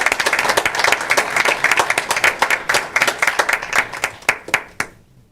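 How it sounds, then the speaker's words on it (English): Audience at a school board meeting applauds the Pasco Police Department: a loud, dense burst of many hands clapping that thins into scattered claps and stops near the end. "So one more round of applause for our Pasco Police Department."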